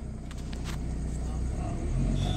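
A used car with an automatic gearbox pulling away in drive, a low steady engine rumble that swells slightly as it moves off, close by, with faint indistinct voice-like sounds briefly present.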